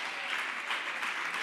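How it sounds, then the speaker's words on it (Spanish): A church congregation claps together in praise, a steady, moderately loud burst of applause filling the short moment without letting up. "Dale un aplauso a la gloria de Dios."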